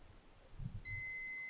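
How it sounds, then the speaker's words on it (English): A multimeter continuity buzzer tested across relay contacts sounds once as a sudden, steady high-pitched electronic tone that starts partway through and holds, preceded by faint handling noise. "If it gives a buzzer sound, then there is a zero resistance."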